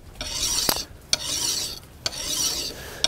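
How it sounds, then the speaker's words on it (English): Three slow rasping strokes of a hand file sharpen the edge of a freshly forged draw knife blade, each gritty stroke separated by a brief pause, close and clear with no talking. "Then I'll take it out and do my final sharpening with both file and stone."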